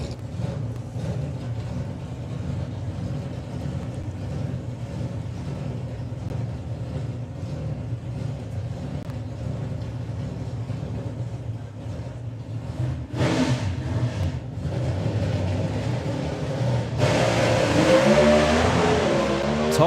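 Dodge and Pontiac drag racing cars at the FIA FIM Main Event roar loudly at the start line, a steady heavy engine rumble building into a louder, brighter launch surge in the final seconds.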